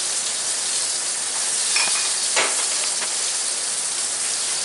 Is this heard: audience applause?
no